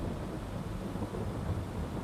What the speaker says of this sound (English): We should get past this rain here, just so we're not planting in the rain.